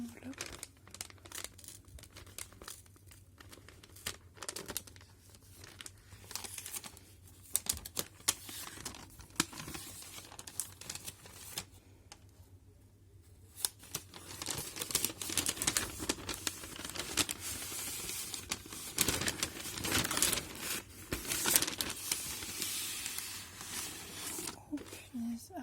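A very large paper envelope is torn open and its paper crinkles and rustles in close, crisp bursts that thicken into steady crackling, with a soft voice talking quietly at times.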